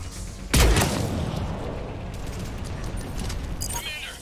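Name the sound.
mortar fire in battle, from video game Mass Effect 3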